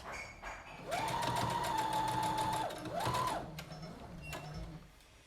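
Sewing machine running a seam to set pleats on a skirt, two sustained whirring bursts of rapid stitching with a brief stop between, close and steady, followed by quieter handling sounds.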